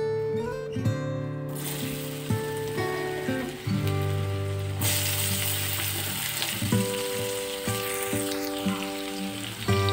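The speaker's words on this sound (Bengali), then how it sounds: "এবার এই তেলের মধ্যে আমি গাজর, বিনস, আলু এগুলোকে ভেজে নেব।" Carrots, beans and potatoes frying in hot oil, a steady close sizzle that fills the whole stretch, with a few faint clinks of stirring.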